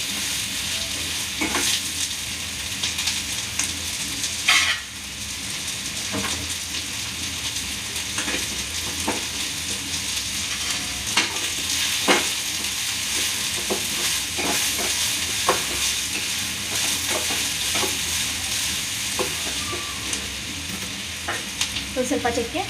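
Onion and green chillies frying in oil until golden for a brinjal masala curry, a steady dense sizzle running throughout with scattered clicks and scrapes of stirring.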